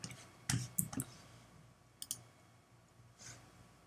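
Computer keyboard keys clicking in a few sparse clusters of sharp taps with quiet gaps between them, close but soft against a faint room hum, during comic book coloring shortcuts.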